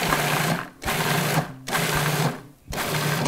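A food processor pulsing cranberries in three short bursts, each a loud whirring buzz of the motor and blades, separated by brief pauses.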